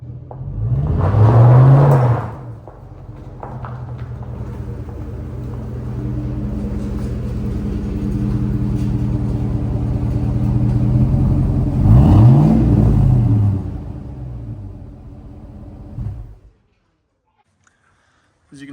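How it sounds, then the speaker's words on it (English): A 3-valve Triton V8 in a 2006 Ford F-350 XL idles with a low rumble, swelling in two loud revs at the start and around the middle before cutting off abruptly. "As you can see under the hood of the infamous 3-valve Triton"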